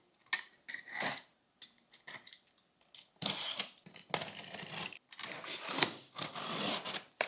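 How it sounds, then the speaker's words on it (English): Scissors cut packing tape on the box of a Goodnature Hummingbird cold press juicer, close and quiet, in short bursts of snipping and slicing separated by pauses. "Cut the tape carefully."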